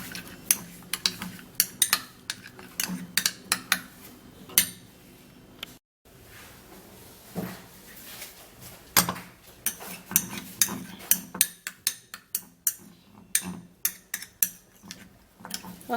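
Utensil stirring a banana peel and potato paste mixture in a bowl, a long series of close, sharp clinks and scrapes in an uneven rhythm, briefly pausing, then quickening toward the end.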